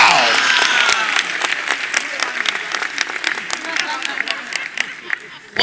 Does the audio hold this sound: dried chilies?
no